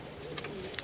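A domestic pigeon from a keeper's flock in India gives a brief, faint coo or two against steady low background noise, with a slightly louder burst near the end.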